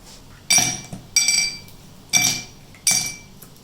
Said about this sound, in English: First we're gonna start with the ice